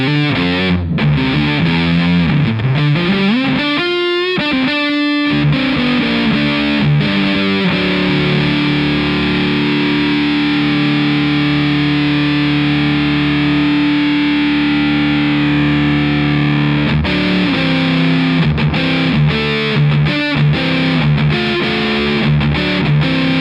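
A Crazy Tube Circuits Motherload RAT and Muff distortion pedal driving an electric guitar, thick saturated fuzz tone with sliding riffs, long sustained chords and choppy bursts, loud and continuous with no talking.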